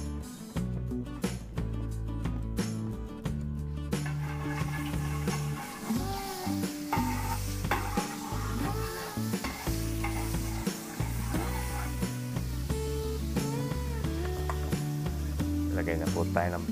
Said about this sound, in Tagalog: Magigisa na ho tayo, maglagay tayo mantika.